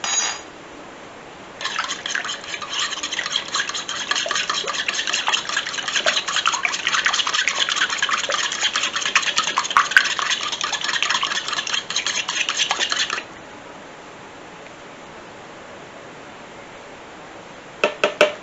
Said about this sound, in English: Let's go ahead and give it a stirry stir.